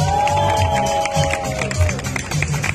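Crowd applause at an outdoor street inauguration in Puebla, marking the pedestrianization of 16 de Septiembre street, a steady wash of clapping from a gathered audience with a sustained tonal sound and some voices mixed in.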